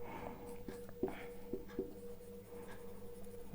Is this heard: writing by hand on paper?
yes